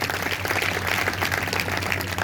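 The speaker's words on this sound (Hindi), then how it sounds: "सभी जोर से तालियां बजाएंगे।" A congregation at a Sunday church service claps loudly together, a dense, even burst of applause filling the room, with a low steady hum underneath.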